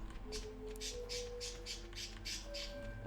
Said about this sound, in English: say good morning to the birds